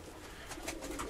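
Young pigeons in a loft give soft, faint coos, a brief cluster of gentle bird calls heard at close range.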